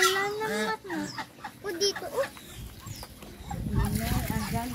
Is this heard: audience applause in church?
no